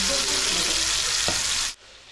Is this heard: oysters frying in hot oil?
yes